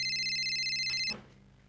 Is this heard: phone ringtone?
yes